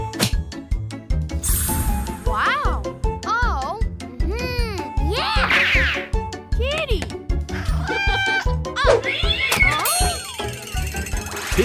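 A startled cat gives a string of loud, close meows, some drawn out and rising, with a voice and light jingling mixed in.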